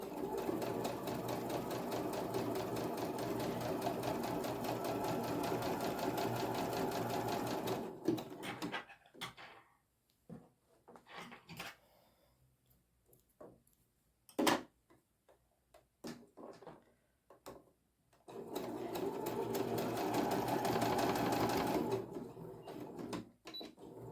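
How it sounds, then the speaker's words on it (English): Sewing machine stitching patchwork fabric squares for a coaster, a fast even rattle of needle strokes running steadily, pausing into scattered clicks and handling noises, then resuming its rapid buzzing run near the end, close by. "I'm just going to put the other set of squares up against the previous one and start sewing"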